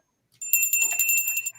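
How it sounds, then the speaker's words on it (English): A bright bell rings with a sustained, shimmering metallic tone that lasts over a second, loud and close, with no talking over it. "Just to ring my bell."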